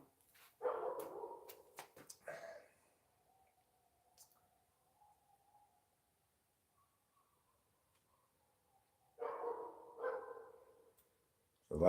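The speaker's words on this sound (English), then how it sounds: "It's not just that dog, it's some other dogs over there further away too." Dogs bark outdoors, some close and others farther away, in two separate bursts of several barks with a long quiet stretch between them.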